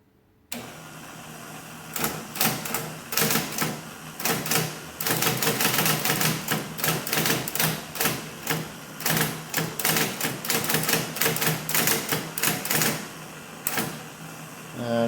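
IBM Electromatic electric typewriter under repair, keys struck in a fast irregular run of loud sharp clacks over a constant motor hum.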